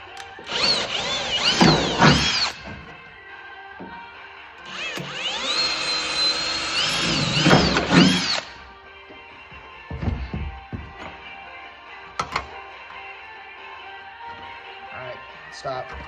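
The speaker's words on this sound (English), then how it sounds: "I'm gonna drill it and rivet it" A power drill bores through a bracket on a late model race car's quarter panel during a repair, running in two loud bursts of about two and three and a half seconds, with quieter shop handling noises afterward.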